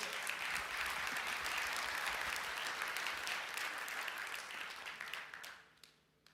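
Audience applause fills a hall in a loud, dense, sustained wash of clapping that thins and fades out near the end.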